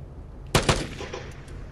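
A couple of quick automatic bursts fired in the video game Vigor, two sharp cracks close together followed by a decaying tail over low background hum.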